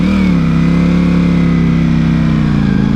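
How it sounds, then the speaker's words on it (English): A car engine drones steadily and fairly close for a few seconds, with a slight rise in pitch, consistent with a Honda Accord passing. "This car looks nice. Honda Accord."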